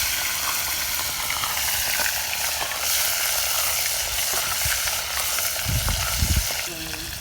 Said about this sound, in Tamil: கடுகு போடுதேன். கருவாடு போட்டிருக்கேன் எண்ணெயில்.